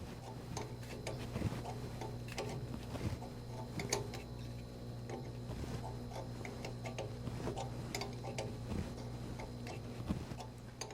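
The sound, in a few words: wrench turning a marine impeller puller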